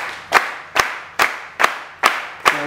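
An audience at a book release event claps in unison, six sharp, evenly spaced claps in a steady rhythm, loud and close with brief quiet gaps between them.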